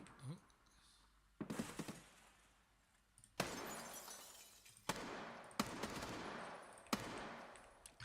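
Gunfire in Escape from Tarkov: several separate bursts of automatic fire with shattering, ringing tails, fairly loud against a quiet background.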